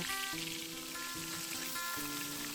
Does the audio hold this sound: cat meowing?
no